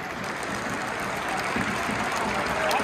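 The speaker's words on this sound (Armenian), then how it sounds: "Կլուժի երկրպագունը ծափարում են Փյունիկին" Crowd of Cluj supporters in a stadium applauding the visiting Pyunik football team after a match in Romania, a steady dense wash of clapping and crowd noise that holds at an even level throughout.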